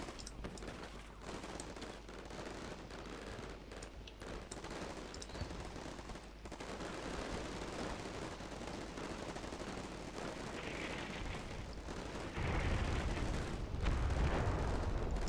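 Bursts of automatic gunfire and a heavy blast as a breach team blows through a wall in the military strategy game Combat Mission Shock Force 2, with dense rattling shots throughout and a deep rumbling boom toward the end.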